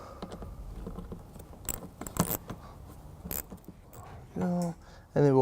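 Two 8mm bolts come out of the front bumper of a 2015 Mini Cooper Countryman. Light metallic clinks and handling noises lead into two short, loud whirring tool bursts near the end.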